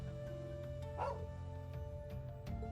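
A dog in a video game barks and yips a few times over a steady low hum, fairly quiet and close, with no one talking.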